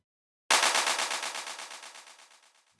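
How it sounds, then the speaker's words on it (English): A sampled clap from the Wave Alchemy Drumvolution library repeats through a very rapid 16th-note delay, a single sharp hit followed by a fast stuttering train of echoes that steadily decays, soloed and alone. "the clap is a sample coming from the Wave Alchemy Drumvolution library"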